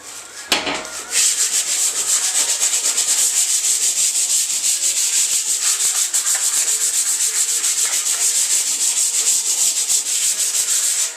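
Harsh, continuous power sanding scours rust off a steel trailer, a loud close hiss-and-rasp that starts after a brief thump and runs steadily, with no talking.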